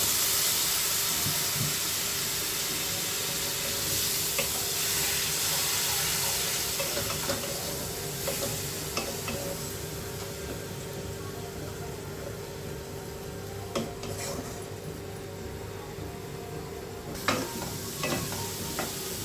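Spices with a splash of water sauté in a pan for a fish curry with aloo, bori and brinjal, giving a continuous close sizzle and hiss with occasional stirring scrapes, no talk over it.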